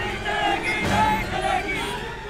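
Loud, unruly crowd of protesters rioting in a city street during nationwide Karni Sena demonstrations, a continuous roar of many shouting voices with no pauses.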